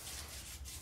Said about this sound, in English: now I have a brush and I want to go ahead and start scrubbing